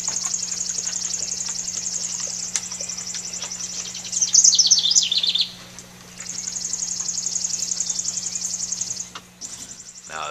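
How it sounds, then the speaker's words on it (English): Morning birds chirp in a dense, high, continuous chorus over a steady low hum, with a brief burst of louder calls midway. "Listen to the birds."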